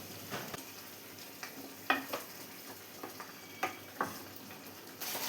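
Chicken mappas curry with coconut milk bubbling in an open pan, a soft steady simmer broken by occasional stirring scrapes and small clinks, close and fairly quiet with no talking.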